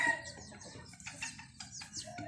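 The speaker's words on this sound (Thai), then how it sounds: "นี่คือ นะครับ ไก่แจ้นะครับ" A bantam rooster on a Thai breeding farm clucking in a quick series of short, near calls, clear and alone with no talk.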